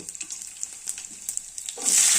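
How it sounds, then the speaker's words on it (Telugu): Crackling spatter of cumin and coriander seeds in hot oil for tomato pachadi, popping irregularly, then swelling into a loud, steady sizzle near the end. "ఆయిల్ వేడయ్యాక ఫస్ట్గా పోపు దినుసులు, జీలకర్ర, ధనియాలు"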